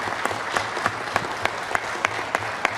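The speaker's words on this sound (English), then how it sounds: "Let's give her a round of applause." At a city council meeting, the audience claps steadily for a Comanche Indian Veteran Association princess, even continuous applause with a few sharper individual claps standing out.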